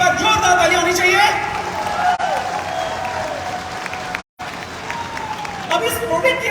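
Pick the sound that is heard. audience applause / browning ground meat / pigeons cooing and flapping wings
audience applause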